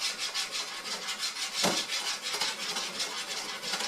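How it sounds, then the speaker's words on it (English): A skillet of eggs for a French omelette is shaken steadily on the stove, giving a continuous rhythmic scraping and rasping close by, with one sharper knock midway. "And then you're just going to continuously just shake while the eggs get done."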